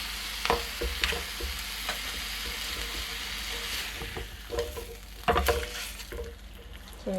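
Chaliapin steak searing in a hot pan, a steady close sizzle and spatter running throughout, broken by a few sharp clinks and scrapes of a utensil against the metal.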